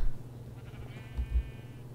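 A sheep bleats once, a short wavering call close by, while it is being led over to a fence post on a farm, with low background rumble and no talk during the call.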